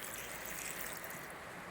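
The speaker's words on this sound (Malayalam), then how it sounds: "ഇനി ആവശ്യത്തിന് വെള്ളം ഒഴിച്ച് 1 കപ്പ് വെള്ളം ഒഴിക്കും." Water pours into a pressure cooker for an Andhra-style toor dal, a steady close splashing stream that stays even and unbroken throughout.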